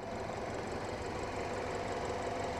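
A BMW X1 four-cylinder engine from a 2015 model idles steadily at close range, a continuous low rumble with a faint mechanical clatter and no talk.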